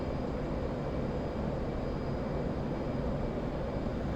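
An F/A-18 jet engine in the video game DCS hums as a steady, broad roar that stays at an even level throughout, with no distinct surges and no talk.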